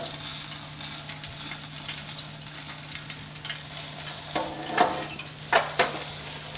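Cajun-style turkey frying in a pot of hot oil gives a steady, close sizzle with fine crackling and a few sharper pops near the end; no one speaks.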